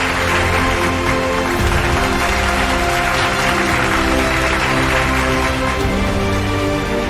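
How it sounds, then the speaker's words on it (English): Sustained applause fills a hall for winners at a hairstyling awards ceremony, steady and loud throughout with no voices on top. "A huge round of applause for all our winners in the ladies haircut and color commercial category"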